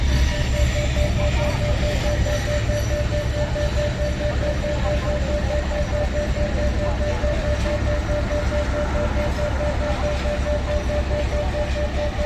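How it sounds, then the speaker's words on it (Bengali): A long train passes close by near a railway crossing, a continuous loud rumble of wheels and carriages with a steady hum that holds throughout without break. "ওই দিক দিয়ে ট্রেন যাইতেছে, এই জায়গায় ভাইব্রেশন হইতেছে।"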